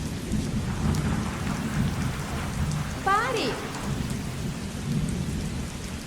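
Steady heavy rain on surfaces with a low thunder rumble throughout a thunderstorm, fairly loud and continuous, while someone briefly shouts one word partway through.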